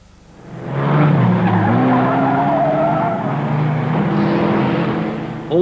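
Battered stock racing cars skid around the oval at Aldershot Stadium, Hampshire, in a loud, sustained tyre squeal with rising and falling engine tones for several seconds. No voices are heard.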